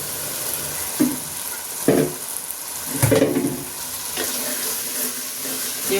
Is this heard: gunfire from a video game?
no